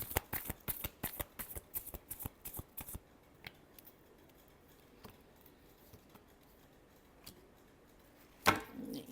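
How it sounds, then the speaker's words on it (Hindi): Tarot cards are shuffled in a quick series of crisp riffling slaps, about a dozen in a row, followed by quieter scattered taps and one final louder card flutter near the end. "Last shuffle."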